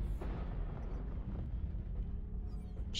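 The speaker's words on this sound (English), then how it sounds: "Artillery strike online." Artillery strike explosions in the mech combat game MechWarrior Online, a deep rumbling boom that rolls on continuously for a few seconds, heavy low-end and distant-sounding, with no talk over it.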